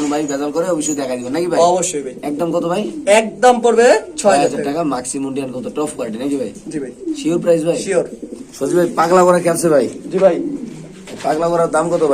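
Pigeons coo at a pigeon farm, their repeated throaty calls close and prominent, while people talk nearby through much of the clip.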